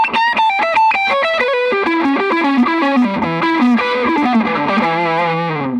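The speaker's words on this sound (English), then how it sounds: "That's a lot of distortion" A Frank Gambale FG1 Kiesel electric guitar rings out through heavy distortion, playing a fast descending run of sustained notes that settles into a held chord, loud and alone.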